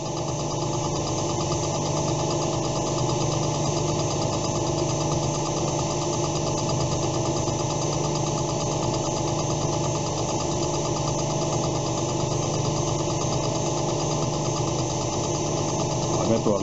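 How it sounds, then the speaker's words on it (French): A milling machine's face mill, used like a fly cutter at fairly high speed with a light pass, cuts metal plate in a steady, loud, continuous droning whir without pause. "cette fraise-là, on l'utilise plus comme un fly cutter, ça veut dire vitesse quand même assez importante et puis petite passe"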